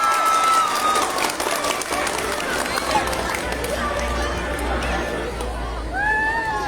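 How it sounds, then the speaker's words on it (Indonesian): An audience applauding the two candidates at a school student-council debate, a steady spread of clapping from a crowd in a hall, with voices and chatter mixed in throughout. "Berikan tepuk tangan yang mulia untuk kedua paslon"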